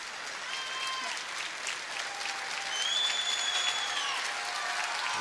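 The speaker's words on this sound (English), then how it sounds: "Warm applause from this crowd at the North Bay Memorial Gardens" Warm crowd applause fills a curling arena at the North Bay Memorial Gardens, a dense, steady wash of clapping that swells slightly midway, with faint tonal sounds above it and an announcer speaking over the top.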